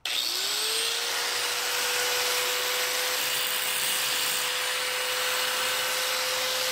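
Power tool cutting metal and throwing sparks: a steady, loud whine that spins up at the start and holds one pitch, with a harsh hiss of grinding over it and no talking.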